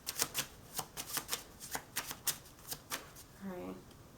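Tarot cards being shuffled up close, a run of sharp, irregular riffling snaps and flicks, with a brief voice rising near the end.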